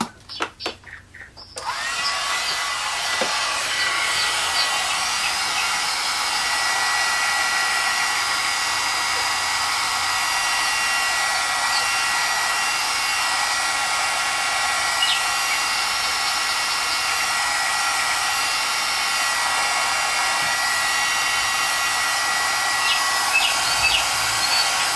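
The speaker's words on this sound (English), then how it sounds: "I'm going to get my heating tool to speed up the process." Heating tool blowing hot air over a craft project to speed up cracking, a steady loud whirring hiss that starts after a few brief knocks and runs unbroken throughout.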